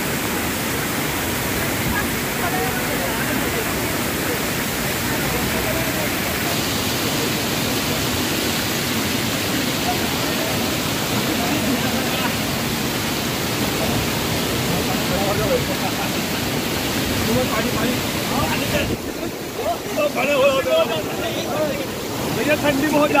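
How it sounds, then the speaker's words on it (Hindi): Heavy rushing water at Amboli waterfall in Amboli Ghat roars as a dense, continuous wash of noise, loud and close, with some wind buffeting near the end. "पानी का आवाज़ तो आप देखे हो रहे होंगे"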